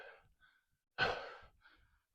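Heavy breath of a hiker winded after climbing a hill outdoors: one long, loud exhale in the middle, framed by softer, shorter breaths before and after.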